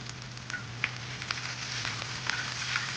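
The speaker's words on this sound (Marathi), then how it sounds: "चांगलं ते तेलामध्ये परतून घ्या." Ivy gourd with red chilli powder, onion-garlic masala and salt sautés in hot oil, a soft continuous sizzle flecked with small crackles and pops, steady and close, with no talking.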